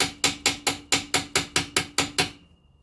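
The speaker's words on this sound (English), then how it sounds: "So literally the side of my starter motor, I'm just going to give it a hit with my ratchet handle." Ratchet handle striking the side of the starter motor on a 1968 Datsun 1000, eleven sharp metallic knocks in an even, quick rhythm, close and clear, then a faint ringing fade to near silence.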